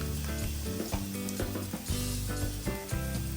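Minced garlic sautéing in hot oil in a pan for pork liver bistek, a dense close sizzle running steadily throughout with scattered crackles and light stirring.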